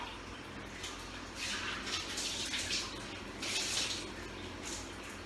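Water runs steadily from a tap while a bathroom is being cleaned, with a constant hiss that swells louder in surges, splashing close by and alone without talk.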